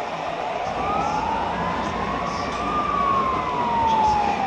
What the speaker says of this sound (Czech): A jedou hasiči, někde hoří.